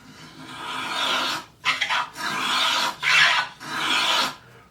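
A Jorgensen #102 hand plane slices full-length shavings from wood in three or four long, close, rasping strokes, each separated by a brief pause.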